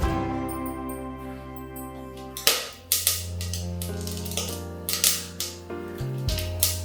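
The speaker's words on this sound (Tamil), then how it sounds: "கடுகு நல்லா பொரியுது." Mustard seeds crackle and pop in hot oil inside a clay pot for fish kuzhambu, sharp close bursts clustering after a quiet start over a steady low background hum.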